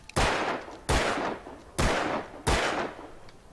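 Four loud, evenly spaced gunshots from the Alan Wake video game as a stack of cans is shot, each a sharp crack with a short echoing decay, close and alone with no talk.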